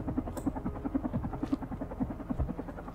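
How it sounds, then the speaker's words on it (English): A steady, quiet mechanical hum with a rapid rhythmic pulse, like a small hovering machine, comes from a drone in the video game Carrion and plays on its own without talk. "Oh, it was a drone."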